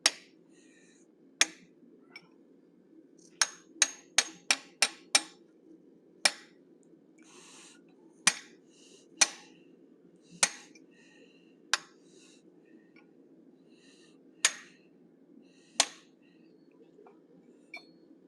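Hammer blows ring out on hot iron as a blacksmith shapes the brows of a forged animal head with a 1/4 inch fuller, sharp metallic strikes arriving singly and in quick bursts over a low steady hum.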